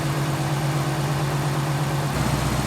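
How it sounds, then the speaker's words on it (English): A rebuilt 2016 Dodge Challenger R/T with a manual transmission idles in a steady, loud, close hum with a strong low drone. The tone shifts slightly near the end, and no one talks. "now we gotta run the engine to get all the coolant through, so let's start it up."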